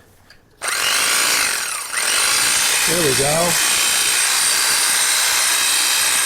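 Electric hedge trimmer running steadily and loudly after cleaning and lubrication, a constant high motor whine starting abruptly and holding throughout, with a brief voice speaking over it partway.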